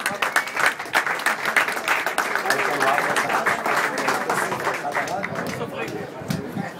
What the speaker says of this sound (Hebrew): אז קודם כל מחיאות כפיים לאיציק